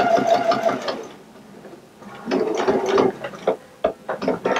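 A sewing machine stitches fabric for a holiday table runner, running in close, busy mechanical bursts of needle chatter that pause briefly and start again, no talking.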